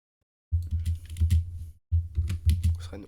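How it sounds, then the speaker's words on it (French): Fast, loud clatter of a computer keyboard in two bursts of rapid keystrokes separated by a brief pause, recorded close to the microphone during a live gaming stream. "vous entendez de ouf mon clavier"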